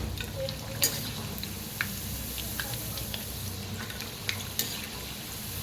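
Leftover chapati pieces sizzle and fry crisp in hot oil, a soft steady crackle broken by a few sharper pops and stirring clicks, with no talk.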